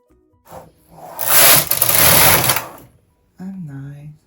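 A Brother KH 260 knitting machine with ribber knits ribbing rows for a chunky tuck-rib cardigan: one loud, rasping carriage sweep of about two seconds, followed by a brief spoken voice.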